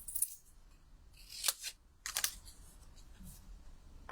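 Scissors snipping through card during card making: three or four short, crisp cuts in separate bursts, close and fairly quiet, with no talk.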